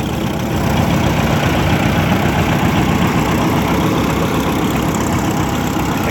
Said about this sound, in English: This tractor needs a bit of a tune-up. I think it's got a bit of a mist to it